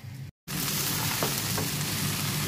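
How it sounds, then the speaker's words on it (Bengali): Rice and lentils fry in a pot on a gas stove for mutton khichuri, giving a loud, steady, close sizzle that cuts out for a moment near the start and then runs on unbroken. "আর এটাকে আমি 2 মিনিট ধরে একটু ভেজে নেব।"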